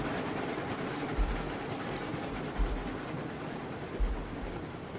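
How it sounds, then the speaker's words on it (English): Freight train in the RailRoads Online video game rolling along, a steady broadband rumble with periodic low thumps from wheels crossing rail joints about every one and a half seconds, heard from well back along a long train. "Train's long enough, you can definitely get back to where you don't hear the locomotive so much."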